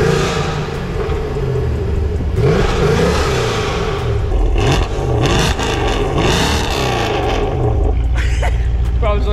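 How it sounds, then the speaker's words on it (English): A Mercedes C63 AMG W204 engine revs loudly and repeatedly, its deep roar rising and falling up close, with people talking over it. "But I think we should give this car a little bit of a rev,"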